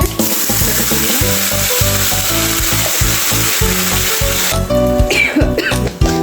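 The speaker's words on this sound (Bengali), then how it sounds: "তো দেখতেই পাচ্ছ ভালো করে ভাজা হয়ে গেছে" Dry red chillies and bay leaves frying in hot oil give a loud, steady sizzle that fills the whole stretch, with a brief clatter of utensils near the end.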